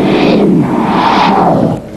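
A heavy metal album played in reverse: a loud, dense, swelling wash of smeared band sound with surging, whooshing rises that falls off abruptly near the end, with no talking over it.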